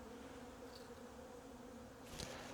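Bees robbing out a dead beehive in autumn give off a steady low buzzing hum, faint and continuous, with a brief closer buzz near the end.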